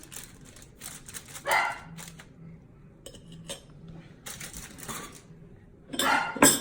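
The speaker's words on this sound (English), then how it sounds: "And the dog won't stop barking." A dog barks indoors during a home taste test of carrot and zucchini nut bread, with a few short bursts spread across the moment and faint clinks of cutlery and dishes between them; nobody speaks.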